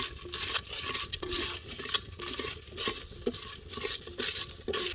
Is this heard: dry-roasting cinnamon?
yes